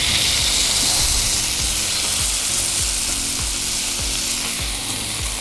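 Smash burger patties sizzling on a hot Blackstone griddle, a loud, steady frying hiss with repeated scraping strokes of a spatula underneath.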